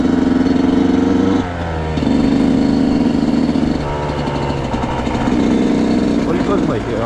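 Yamaha YZ125 motorcycle engine running during a ride, a loud close two-stroke drone that drops briefly, then climbs again in pitch with throttle changes and shifts.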